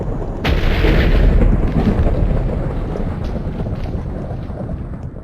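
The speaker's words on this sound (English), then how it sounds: "Gonna head up, go to sleep through the thunderstorm" Thunder rolls through a video game thunderstorm in hardcore survival play, a loud broad rumble that swells after a sharp onset and then slowly fades, with no voices over it.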